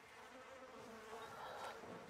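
Wasps buzz in Call of Duty: Modern Warfare, a steady, faint insect drone that wavers slightly in loudness throughout, with no talk over it.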